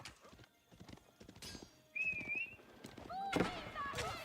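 Faint hoof clip-clop and a short horse whinny sound from a strategy video game, with horse archer and spearman units, set under quiet commentary and scattered game effects.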